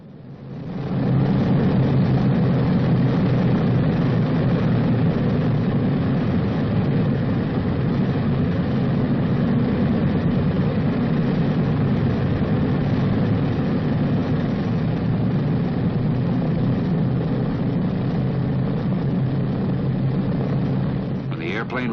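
B-29 Superfortress bomber with its radial piston engines running as it taxis, a steady, loud, deep droning roar that holds constant throughout.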